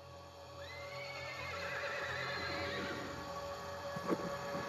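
Several horses whinny and neigh in long rising and falling calls over a steady clip-clop of hooves, fairly close and loud throughout, with a sharper hoof strike near the end.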